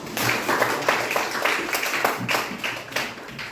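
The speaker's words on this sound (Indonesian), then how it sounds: "Aplaus buat kelompok 4." A classroom group claps for a presenting student group, a light scattered patter of hands that stays moderate and steady for a few seconds.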